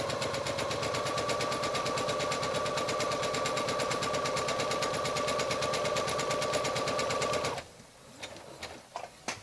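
A sewing machine runs a steady, fast, even stitching rhythm for most of the stretch while sewing a seam without backstitching, then stops abruptly, leaving a few scattered clicks and handling noises.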